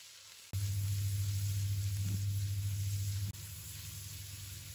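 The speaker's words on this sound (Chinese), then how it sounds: "油热之后，我们把瘦肉放入锅中，给它翻炒一下。" Lean pork stir-frying in hot cooking oil in a wok, a steady close sizzle and crackle that jumps up suddenly as the meat hits the pan, then settles slightly lower near the end.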